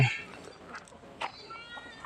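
Young cats at a temple in Lampang, Thailand, give a few short, faint meows spread over a couple of seconds in a quiet evening setting.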